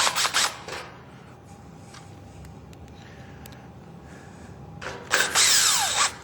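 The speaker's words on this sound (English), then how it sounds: "What we're first going to do is put the brackets on." A power drill whirs in short bursts, one at the start and another at the end, with quieter room tone between them, while brackets are fitted to the optional back panel of a Haworth Beside furniture unit.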